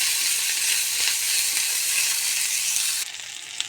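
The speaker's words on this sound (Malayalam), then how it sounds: "എന്നിട്ട് ഇതിനെ നന്നായി ഒന്ന് ഫ്രൈ ചെയ്യുക" Shoots of onion, the white parts, sizzle steadily in a hot pan, a dense even crackle that drops to a quieter, sparser hiss near the end.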